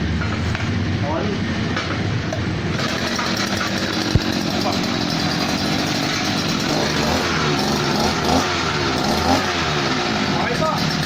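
A gasoline-powered hole digger, pull-started, runs with a steady loud buzzing engine drone that holds on without pause, while a person talks over it nearby.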